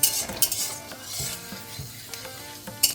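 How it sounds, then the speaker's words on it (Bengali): Food with fennel seeds is stirred in a hot pan, metal utensil clinks and scrapes over a light sizzle, a few sharp knocks standing out nearby. "এবার এটাকে নাড়াচাড়া করব"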